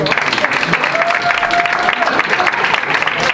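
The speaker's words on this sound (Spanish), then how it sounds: "un aplauso" A crowd at a science talk in a bar applauds, steady dense clapping at close range for a few seconds, with a faint tone and murmur underneath.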